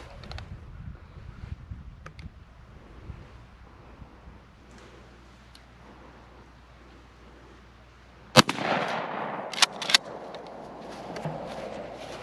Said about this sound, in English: So I'm shooting the modified again at 20 yards because my pattern's a little all over the place